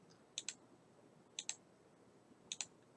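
Three pairs of sharp double mouse clicks while selecting media types in a PowerPoint dialog, evenly spaced about a second apart, crisp and close over a quiet room hiss.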